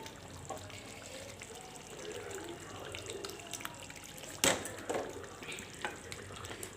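Green chillies tossed into a sizzling white chicken karahi, a soft bed of frying hiss broken by a sharp drop-in clatter and a few stirring scrapes, close but fairly quiet.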